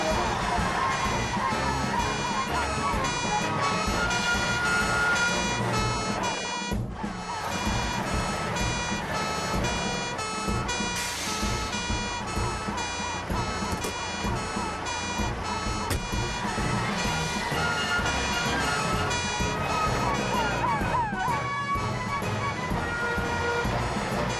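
A cartoon fire engine's siren wails continuously and loudly for the whole stretch, a steady electronic tone mixed with music-like layers and no spoken words.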